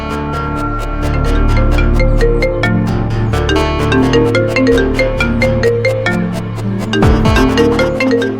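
A loud, melodic phone ringtone plays continuously, bright electronic tones repeating in a steady musical pattern with no voices.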